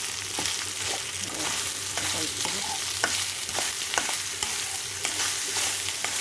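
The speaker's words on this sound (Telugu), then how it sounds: "అన్నం ఎక్కడ గడ్డలు లేకుండా ఇలా కలుపుకోవాలి" Cooked rice being stirred and pressed in a pan with salt to make curd rice, giving a steady scraping, mixing sound over a soft sizzling hiss with regular light knocks.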